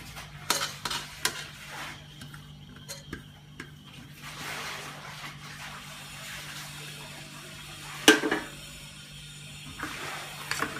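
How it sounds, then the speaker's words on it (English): Ridge gourd vegetables with shredded coconut are sautéed in a pan for dodka nariyal sabji, giving scattered stirring scrapes and clinks over a low, faint sizzle, with one sharper knock near the end. "Now again saute the vegetables for a few minutes"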